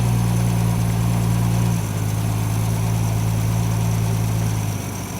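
A Ford 200 inline six engine idles, a loud, steady, close rumble with a faint dip in pitch partway through, running alone without voices.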